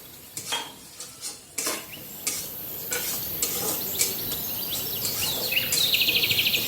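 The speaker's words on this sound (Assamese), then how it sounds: "এতিয়া মছলাখিনি গেছটো চিমত থৈ তেল এৰালৈকে ভাজি থাকিব।" Mustard paste, ginger-garlic paste and tomatoes fry in hot oil in a pan, giving a steady close sizzle broken by several stirring scrapes early on, with a brief high chirping near the end.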